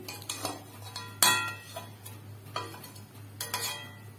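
Pot of poppy-seed curry (posto) being lifted off a home kitchen stove: a handful of sharp metallic clanks and scrapes of pot and utensil, spaced irregularly over a low steady hum, with no talk.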